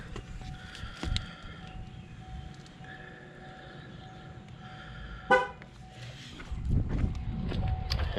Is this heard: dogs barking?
no